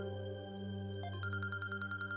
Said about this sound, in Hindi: नायाब की अम्मी का फोन है